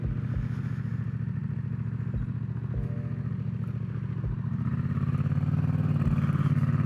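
A Yamaha XSR700 motorcycle engine idling close by with a steady, throbbing pulse and occasional clattering knocks, rising slightly in pitch and loudness toward the end.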